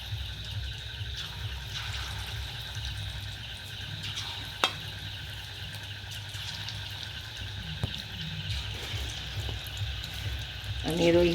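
Pakoras fry in hot oil in a wok, giving a steady, moderately loud sizzle that runs throughout with a couple of sharp clinks and some added clatter near the end.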